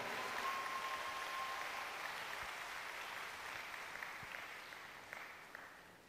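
Sustained audience applause fills the hall at a global leadership convention, a steady broad wash of clapping that holds at even strength for several seconds before easing slightly, with no voices over it.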